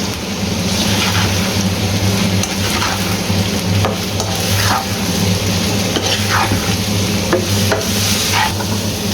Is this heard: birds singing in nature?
no